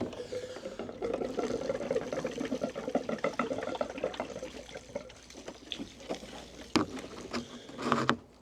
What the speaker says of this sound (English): hope that all of the water drains out of the in and out port